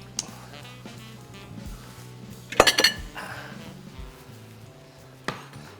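A small bowl clinks and clatters as it is set out on a kitchen counter, a brief cluster of bright ceramic knocks mid-clip with a lone tap later, amid faint background noise.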